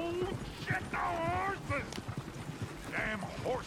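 Horse hooves clip-clop steadily in the Western video game Red Dead Redemption 2, heard under voices talking throughout.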